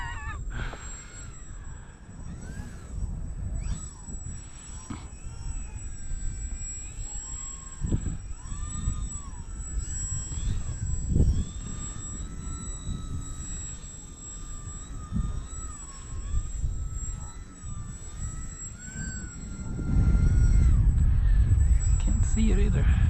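A 32-inch Bayer Model Vertigo RC helicopter flies on a windy day, its thin whining rotor and motor tone wavering over heavy wind buffeting, with people talking nearby and a strong gust roaring in near the end.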